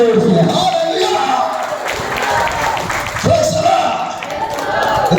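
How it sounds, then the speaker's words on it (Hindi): A church congregation bursts into loud, sustained clapping and cheering during a Hindi-language sermon, a dense crowd roar that dips briefly midway and swells again to the end. "ताली बजाओ ना जोर से"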